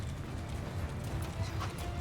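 Rapid clip-clop of galloping horses in the video game Mount & Blade II: Bannerlord rumbles continuously, with faint higher whinny-like tones over a low, busy background.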